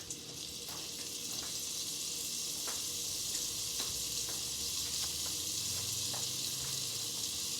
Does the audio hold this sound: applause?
no